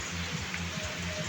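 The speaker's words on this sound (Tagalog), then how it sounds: "lalo na pag ganito, umuulan" Rain comes down in the Bicol region of the rural Philippines, a dense, even hiss of drops striking surfaces with a low repeating rumble underneath, close and continuous for the short stretch with no voices.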